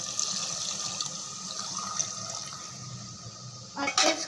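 Water gushes steadily into a pot of rice being cooked for pulao, a continuous close pouring rush that carries on for several seconds before a brief louder splash at the end.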